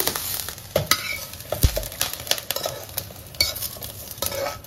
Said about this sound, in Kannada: ಚಟ್ನಿನ ನೋಡ್ರಿ ಹುರ್ಕೊಂಡಿನಿ